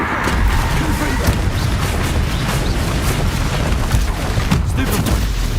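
A Confringo fire spell bursts in Hogwarts Legacy, with dense, booming explosive blasts and crackling impacts running continuously and loud through combat, mixed with a voice.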